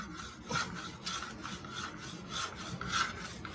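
A bamboo fire saw rubbed back and forth in a friction fire-starting attempt gives a rhythmic rasping scrape, about seven strokes at an even pace, close and fairly quiet, with no voices.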